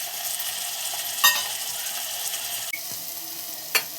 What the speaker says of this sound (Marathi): टोमॅटो सोबत तेही चांगलं परतलं जाईल।